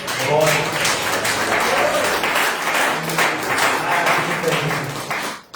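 Church congregation clapping at an evening service, a continuous round of applause with voices mixed in that stops abruptly at the end.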